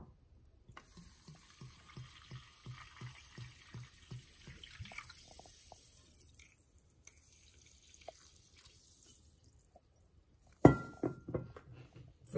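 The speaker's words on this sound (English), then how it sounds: "Let's pour some water in." Vichy Catalan sparkling mineral water from Caldes de Malavella, Spain, poured from a bottle into a glass, a rhythmic series of close glugs and drips followed near the end by a louder burst of splashing and fizz.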